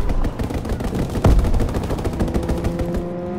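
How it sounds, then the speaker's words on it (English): A fighter jet's strafing run in a military shooter video game, a loud rapid burst of heavy cannon fire with a thudding impact midway, followed by rattling echoes and a fading engine tone. "Fighter pilot inbound, strafing the target."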